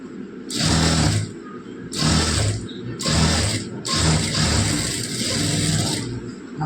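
A sewing machine stitches along the shoulder of a blouse in several bursts of loud, rapid mechanical whirring, with short pauses between runs.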